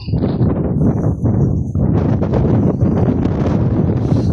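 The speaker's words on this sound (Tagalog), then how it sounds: "Sobrang lakas ng hangin." Strong wind at a river buffets the microphone in a loud, continuous rumbling roar with gusty surges throughout, no voices heard.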